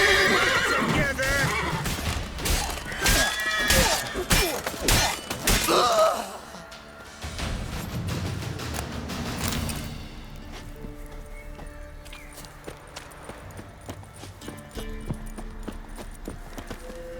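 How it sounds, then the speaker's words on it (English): Horse neighs and hoofbeats clip-clop in The Witcher 3 video game: a loud whinny and rapid dense hoof strikes over the first six seconds, then quieter gameplay sounds and faint steps. "Come on, Roach."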